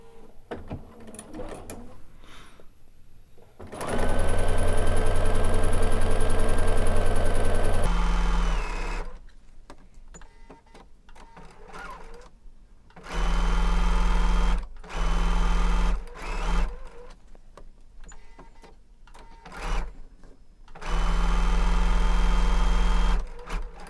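A sewing machine stitches quilt block pieces, threaded with Deco Bob in the bobbin and Aurifil on top, in loud close whirring runs of several seconds each. Between the runs come quieter pauses filled with small handling clicks.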